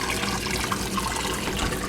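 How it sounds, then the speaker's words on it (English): Tap water runs steadily into a sink while home-canning potatoes, a continuous, fairly quiet rush with no voices. "Now, start putting water in, let it fill up."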